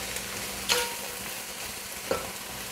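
Onions frying in oil for chicken biryani, giving a steady close sizzle with two brief stirring scrapes and no talking.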